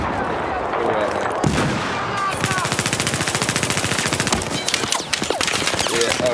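Fully automatic gunfire in Battlefield 4 multiplayer, a fast rattling burst of many rapid shots that runs for several seconds, loud and close, following a single heavier blast.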